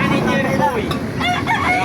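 Chickens cluck and a rooster crows nearby at a chicken market in Baliuag, Bulacan, loud and layered over a busy background with voices mixed in.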